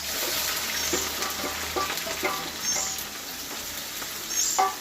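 Ginger, green chili and garlic sizzle in hot oil for a pickle, a soft, steady crackle with faint scattered pops and light stirring, no voices.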